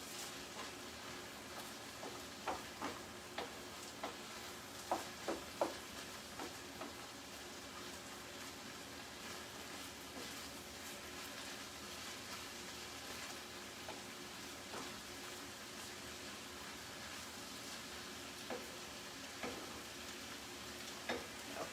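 A pan of food for empanadas sizzles quietly and steadily while a utensil is stirred through it, with faint scattered ticks and scrapes throughout.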